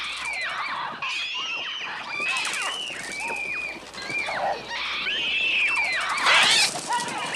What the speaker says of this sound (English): the sound mixing is so well edited into the actual screams of the birds as well